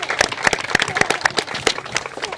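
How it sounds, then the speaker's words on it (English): Scattered audience clapping at a Colorado governor's bill signing for a universal preschool law, individual hand claps standing out in an uneven rhythm, moderately loud and fairly close. "Can we all please give Representative Sirota a huge round of applause?"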